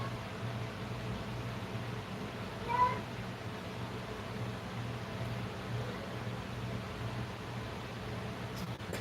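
A restless cat gives a single short meow around the middle, fairly faint over a steady fan-like hum in a room where soldering work is under way.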